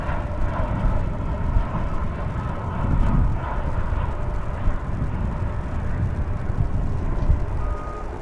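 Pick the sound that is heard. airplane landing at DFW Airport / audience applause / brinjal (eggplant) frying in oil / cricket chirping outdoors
airplane landing at DFW Airport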